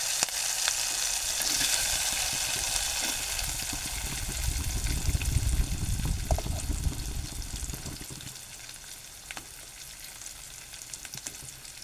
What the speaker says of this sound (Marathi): पहिला कढीपत्ता टाकूया. कांदा टाकूया आता.